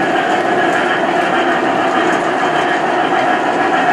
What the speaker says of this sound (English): Pennsylvania coal train, which will be heading back out of town here